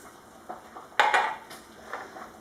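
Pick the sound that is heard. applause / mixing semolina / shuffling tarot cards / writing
mixing semolina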